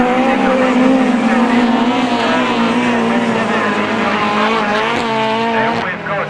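Autograss race cars at St Neots roar loudly and continuously around a dirt track, with engine pitch rising and falling as they race, while a commentator talks over them.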